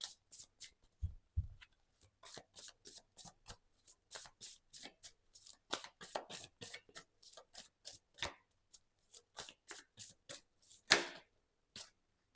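Tarot deck shuffled in quick, evenly spaced bursts of card riffling, close and crisp against near silence, with a brief louder slap near the end and no voices.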